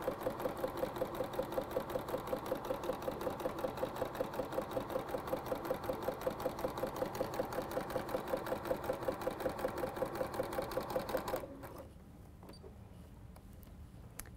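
A sewing machine chain-piecing quilt strips for a table runner runs in a fast steady stitching rhythm for about eleven seconds, then stops, leaving quiet room noise with a faint click.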